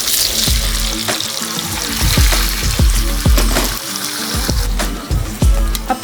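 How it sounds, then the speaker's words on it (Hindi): Chicken fries over high flame in hot oil with cumin, black pepper and cardamom, producing a loud, close sizzle broken by repeated rhythmic thumps and scrapes of stirring. There is no speech. "अब चिकन को हाई फ्लेम पे कुछ देर भूनना है।"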